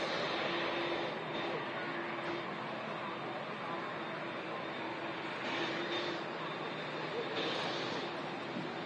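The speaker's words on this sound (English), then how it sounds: "there is the Runway 737-800 taxiing in" A Boeing 737-800 taxis at Manchester Airport as a steady, broad, distant roar of jet engine noise that continues evenly throughout, with a faint hum underneath.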